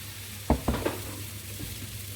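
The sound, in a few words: crêpe batter sizzling in a hot pan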